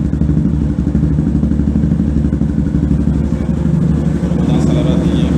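A Yamaha Fazer 250 with a Jeskap exhaust runs close by, with a loud, steady, throbbing rumble that stays even throughout and brief clattery pulses over the low drone.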